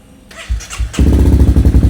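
A 250cc single-cylinder sport motorcycle with about 10,694 km on it cranks briefly, then catches and settles into a loud, close, rapid thumping idle.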